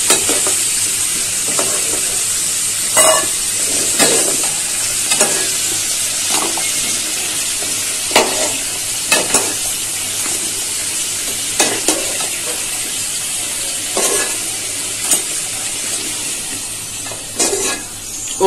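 Potatoes fry in oil in a pan for a goat meat curry, giving a continuous loud sizzle broken by regular scraping stirs of the utensil against the pan.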